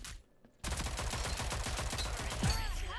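Sniper and other gunfire from the video game Rogue Company: after a brief quiet moment, a rapid, loud burst of repeated shots rattles on in quick succession, with a sharp whizzing sweep near the end.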